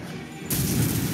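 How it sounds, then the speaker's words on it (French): A sudden loud video game explosion cuts in halfway through, a broad booming roar that stays heavy and sustained after a quieter, rumbling start. "ça c'est l'explosion"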